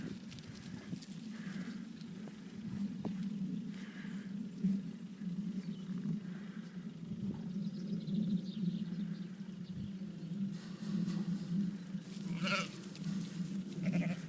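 Ewes and other sheep bleat repeatedly at feeding time on a farm, a chorus of overlapping calls, some near and some farther off.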